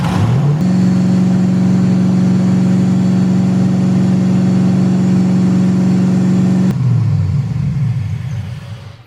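A car engine with a vacuum leak cranks, catches and runs at a loud steady drone with a strong low hum for several seconds, then shuts down and fades out.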